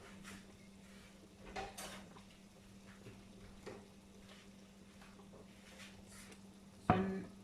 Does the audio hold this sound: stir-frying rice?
yes